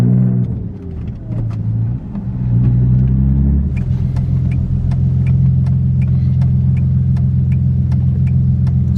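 An Audi B5 S4 with a suspected boost leak pulls hard after a shift, its engine note rising steadily with a loud, close drone and a faint whine, repeated ticking or clicks riding on top.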